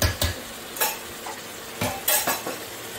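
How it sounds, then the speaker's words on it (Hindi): Mutton with two ladles of curd stir-frying in a pot, the ladle scraping and stirring in a few sharp bursts over a steady low sizzle, with no talking. "मटन भूनते हुए इससे दो कड़छी दही कर्ड, दो कड़छी डाल दी हमने"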